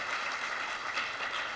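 Brief burst of crowd applause, a dense wash of clapping hands at moderate volume, steady throughout.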